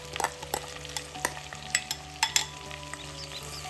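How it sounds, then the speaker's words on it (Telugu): Raw rice tossed in hot oil for Bheemavaram Rajula biryani gives a soft, steady frying hiss, broken by scraping stirs and sharp clinks of a spoon against the pan at irregular intervals. "ఈ బియ్యాన్ని ఇప్పుడు ఈ ఆయిల్లోనే వేపుకోవాలి."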